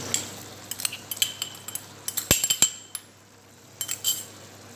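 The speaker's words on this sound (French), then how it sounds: "Et je mélange le tout." Metal utensil clinks and scrapes repeatedly against a pot while meat stew with grated tomato is stirred, light irregular taps close by with no talking.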